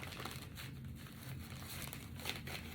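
A small plastic bag crinkles and rustles continuously at close range, soft and steady with a few sharper crackles, no voices.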